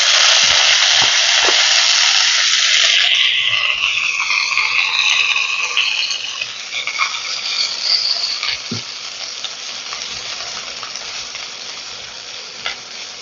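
Chopped spinach and curry leaves sizzling hard in a pan, a loud bright crackle that settles into a softer, steady frying hiss, with occasional stirring taps, and no voices.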